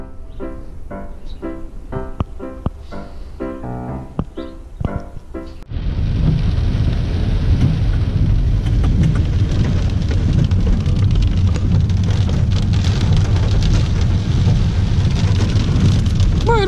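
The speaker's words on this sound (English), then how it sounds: "Man, it's really raining bad out here today." Heavy rain roars steadily after a brief quieter stretch with a few rhythmic knocks, the downpour dense and loud with a low rumble underneath.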